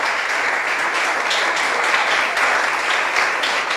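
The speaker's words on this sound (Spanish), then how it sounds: "Démosle un aplauso al Señor." A church congregation breaks into dense, sustained applause, many hands clapping together in a loud, even wash that fills the room for several seconds.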